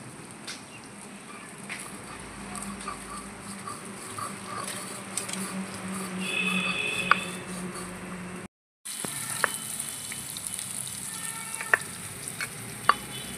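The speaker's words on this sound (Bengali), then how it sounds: "আলুটা ভাজা ভাজা হয়ে গেছে" Potatoes fry in a pan, giving a quiet, continuous sizzle with scattered small crackles and pops and a brief moment of silence partway through.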